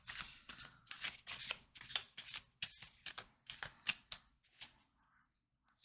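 A Tarot de la Nuit deck of tarot cards being shuffled close up, in a rapid run of crisp riffling bursts that slow and thin out toward the end, with no talking.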